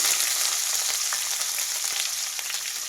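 Sliced capsicum frying in a pan, a steady close hiss of sizzling oil with scattered faint crackles and pops throughout, no voices.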